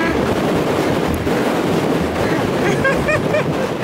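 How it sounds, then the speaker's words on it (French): Steady heavy wind buffeting the microphone outdoors near Piana, Corsica, a loud continuous rumbling roar with faint voices poking through near the end. "Il y a un peu beaucoup de vent, je crois."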